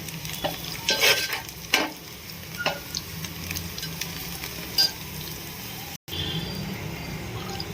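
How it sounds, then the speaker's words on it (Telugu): Chopped onions, green chilies and curry leaves fry in a pan for boti fry, with repeated scraping stirs over a continuous close sizzle and a brief dropout partway through. "వేసి మంచిగా ఫ్రై చేసుకోవాలి ఉల్లిగడ్డ ఇంకా కొంచెం వేగాలి"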